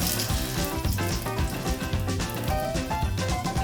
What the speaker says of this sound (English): Then turn up the heat and add in the garlic.